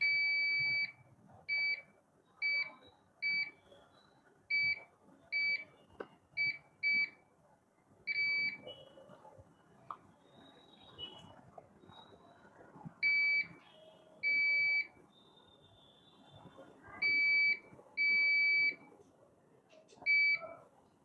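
Multimeter continuity tester beeping while probing a coil on a Samsung A13 phone circuit board: a series of short and longer high-pitched beeps in an irregular rhythm, clear over faint tool clicks and handling noise.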